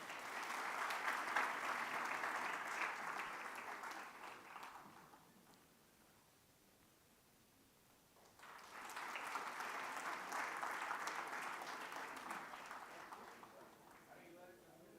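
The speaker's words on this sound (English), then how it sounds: "Give them a big round of applause, please." Audience applause at the inauguration of the Sardar Patel International Conference, a steady wash of clapping for about five seconds, a quieter lull, then a second long burst of applause that tapers off near the end.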